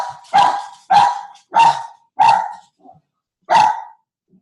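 A dog barks five times in a loud, close series of sharp, evenly spaced barks with a brief soft yip between the last two, alone without talk.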